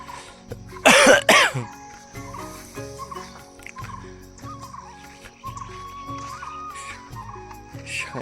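A couple of sharp coughs burst out near the start, loud and close, then fade into a quiet background of low hum and faint murmuring.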